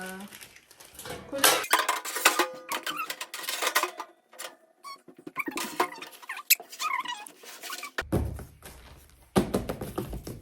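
A frying pan and other cookware are unpacked and handled, giving a scatter of clanks, taps and metallic rattles in irregular bursts, with a voice talking between them.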